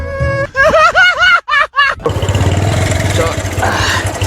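A motorcycle engine runs with a steady, fairly loud rumble while two riders are on the bike, following a short stretch of voice at the start.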